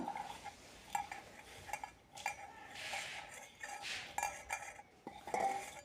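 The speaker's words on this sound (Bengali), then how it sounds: "এভাবে অল্প অল্প জল দিয়ে মেখে নেব।" Batter for crispy mustard flower pakora is mixed with small splashes of water in a bowl, with repeated light clinks and scrapes of a spoon against the bowl in an uneven rhythm.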